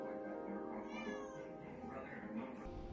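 A cat meows repeatedly at close range, its voice rising and falling over a steady low background, with a person briefly audible near the end.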